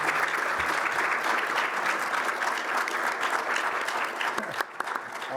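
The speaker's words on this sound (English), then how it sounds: "give the guys a round of applause" Audience applause for a panel at PAX East 2022 in a theatre: a dense, steady clapping from a crowd that fills the whole stretch, tapering slightly near the end.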